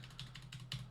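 Keystrokes on a computer keyboard, a few quick clicks in close succession, near and fairly faint over a low steady hum.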